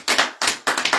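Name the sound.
crowd clapping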